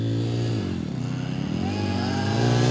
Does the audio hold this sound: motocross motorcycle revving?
yes